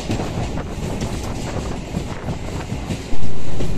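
Passenger train running between Patna and Sonpur near Pahleja Ghat, a steady loud rumble and rattle of rail cars with wind buffeting the microphone, rising to a louder surge near the end.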